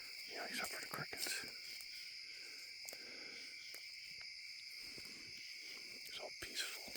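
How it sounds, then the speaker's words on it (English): Crickets chirp in dark woods at night, a faint continuous high trill with scattered soft rustles and clicks in an otherwise quiet setting. "It's so quiet here at night. Yeah, except for the crickets."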